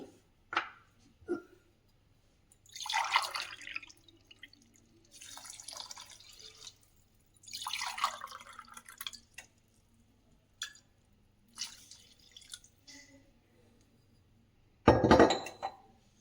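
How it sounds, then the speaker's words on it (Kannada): A quarter cup of water poured over basmati rice in a kitchen pot: short, quiet trickling and splashing bursts separated by silence, with a light clink near the end. "ಇದು 1/4 ಕಪ್ ನಾನು ನೀರು ಹಾಕ್ತಾ ಇದ್ದೀನಿ"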